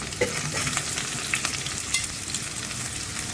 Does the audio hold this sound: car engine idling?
no